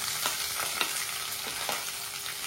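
Onions, green chilies and curry leaves frying in hot oil with mustard seeds and cumin, a loud, dense, continuous sizzle close up with a few brief stirring pops.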